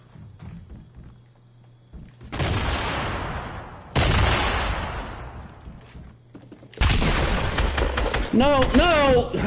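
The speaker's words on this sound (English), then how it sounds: "that's two people shooting rockets and shit at me" Bursts of gunfire and rocket blasts aimed at the player in a Fortnite match: three loud explosive volleys with rattling shots, separated by brief quieter gaps, the last one layered with whistling effects and faint voices.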